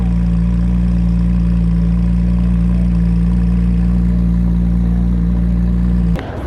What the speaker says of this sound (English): Man, listen to this RS idle.